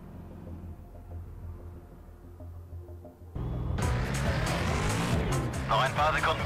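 A Koenigsegg CCX slides in the racing game Need for Speed Shift: a steady low engine hum gives way midway to a sudden loud roar and harsh skidding, with a voice talking over it.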